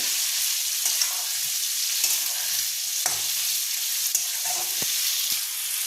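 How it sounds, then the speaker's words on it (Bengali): Spices and potatoes stir-fry in a pan with a steady, bright sizzling hiss, broken by occasional scraping clicks of a spatula, close up and without talk. "এরপর মশলাটাকে আমি ভালো করে আলুর সঙ্গে একটু কষিয়ে নেব"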